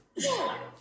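A single sharp human sneeze, close and fairly loud, with a quick intake of breath and a burst that fades within a second.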